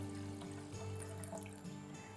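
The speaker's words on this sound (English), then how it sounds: "to that I'm adding 4 cups water" Water runs steadily from a tap or jug into a cooking pot of lentils, a soft continuous trickle and splash at low volume with no voices.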